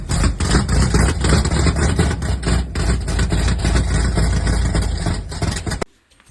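1959 Pontiac Star Chief 389 V8 running despite a cracked block, a loud, close, rough idle with a steady lumpy pulse that cuts off abruptly near the end.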